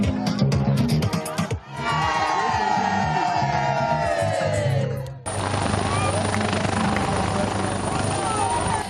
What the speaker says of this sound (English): The helicopter of the Nigerian Air Force conveying the President of the Federal Republic of Nigeria finally touched down on the soil of Okerenkoko